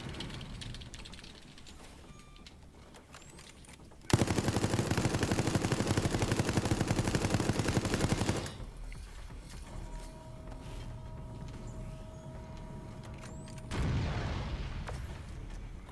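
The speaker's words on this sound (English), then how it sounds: "Maybe I shouldn't use the automatic turret." An automatic turret in a Resident Evil game fires one loud, steady burst of rapid shots lasting about four seconds, then fades back to quieter in-game ambience.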